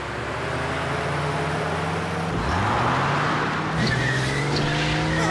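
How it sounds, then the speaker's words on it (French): A speeding cartoon car in an animated spy series roars loudly and steadily as its tires squeal in long continuous screeches, with the engine pitch rising as it races out of control. "C'est pas moi, c'est la voiture. J'arrive plus à la contrôler."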